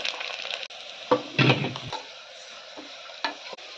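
Onions being sautéed in a pan with turmeric, garam masala, chili and coriander powder added, giving a soft continuous sizzle with a few louder stirring scrapes and clinks, close up and with no talking.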